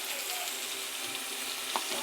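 Sambar onions (small shallots) sautéing in a pan give a steady close sizzle with a faint stir or clink near the end, continuous and without speech.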